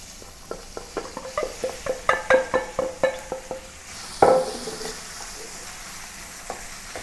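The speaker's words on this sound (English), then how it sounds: "Heat some oil in a pan to saute the onion." Onion sautéed in hot oil in a pan gives a run of rhythmic, close spatula taps and clinks over a low sizzle, then one louder clatter and a quieter stretch of faint frying.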